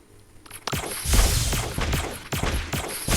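Gunfire from the mobile game Zombie Waves comes in rapid repeated shots with booming low thuds, loud and close, forming a rhythmic barrage over several seconds.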